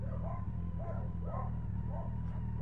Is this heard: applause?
no